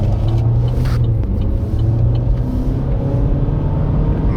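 A 2017 Chevrolet Trax LT AWD accelerates steadily, its engine and road rumble loud and continuous from inside the cabin, with no talk over it.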